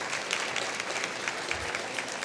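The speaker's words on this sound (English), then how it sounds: "So another round of applause for Michael." Steady applause from an awards celebration audience, a continuous patter of many hands clapping at moderate volume.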